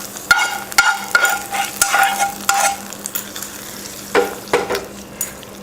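A spoon mixes sizzling tempering into curd rice, giving a run of wet, squelching stirs and scrapes with light clinks, loud and close in uneven bursts.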